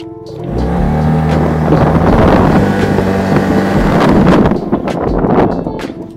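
SYM TTLBT 500cc scooter accelerating, its engine rising from near silence into a strong buzzing roar with climbing harmonics, blended with heavy wind rush against the microphone, then easing slightly near the end.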